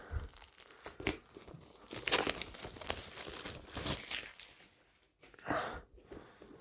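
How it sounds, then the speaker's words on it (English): Cellophane wrapping being peeled and torn off a Blu-ray collector's box, giving close, loud bursts of crinkling and tearing in irregular spurts with short pauses. "Let's get this cellophane off."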